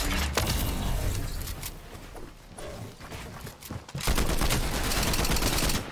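Combat Assault Rifle gunfire in a video game, heard as rapid bursts of sharp, loud shots that run in dense clusters and then break out into sustained automatic fire near the end, with no voices.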